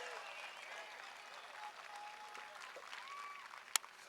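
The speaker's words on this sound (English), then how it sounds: "he would love to hear a round of applause from you folks" A speedway crowd applauding a race winner, with faint, distant, steady clapping and a few whistle-like tones and one sharp clack near the end.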